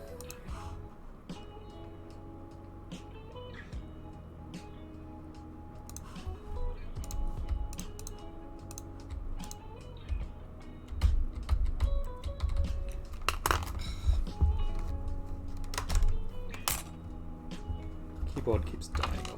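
Computer keyboard keys click in irregular bursts of typing, close and fairly faint, growing busier midway, with people talking over it at times.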